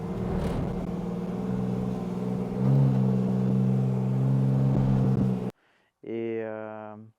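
BMW E82 driving on a race track while warming up its tires, engine droning steadily at moderate revs with a rise in pitch partway through, then cutting off before a person speaks briefly.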